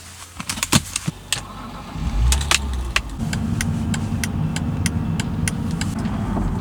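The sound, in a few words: car turn indicator clicking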